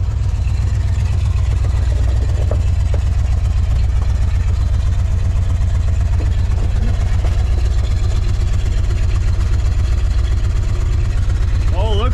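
A 1964 Oldsmobile 98 engine idles close by with a steady, loud low-pitched rumble and regular pulsing throb, running evenly throughout.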